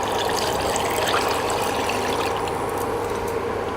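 Coconut milk is poured into a pot of prawn biryani, a steady close liquid splashing and gurgling that runs unbroken and fairly soft.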